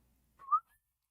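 A single short whistled note, rising then falling, faint and alone after near silence, made by a person imitating a whistling sound.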